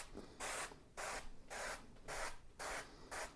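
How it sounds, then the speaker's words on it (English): Avocado oil sprayed from a spray bottle into muffin cups gives six quick, hissing bursts spaced at a steady rhythm. The sprays are close and fairly soft, with short pauses between them and no talking. "Now I need to line the inside of the muffin cups with an oil,"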